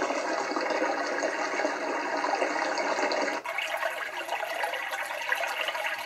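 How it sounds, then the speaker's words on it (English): Babbling brook track from a bedside sound machine: a steady, close rush of flowing water that shifts abruptly partway through to a softer, duller trickle, with no voices. "Another babbling brook."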